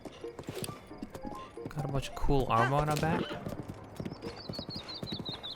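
A horse clip-clopping in Zelda: Breath of the Wild, steady hoofbeats under someone talking, with a whinny-like call midway and game music.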